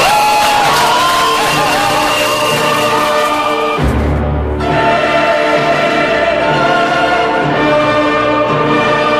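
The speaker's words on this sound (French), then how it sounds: "pousser les cris de joie et acclamer le Seigneur Jésus-Christ" Church congregation shouting for joy and acclaiming, a loud sustained mass of cheering and yelling voices with a brief dip midway.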